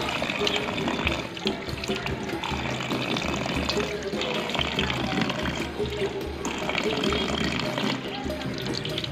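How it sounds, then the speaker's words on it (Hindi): Running water from a tap splashes steadily and fairly loudly during Islamic ablution (wudu), a continuous rushing stream with uneven spatters throughout. "3 दफ़ा मुंह पे पानी मारना, कान की लो तक पूरा मुंह"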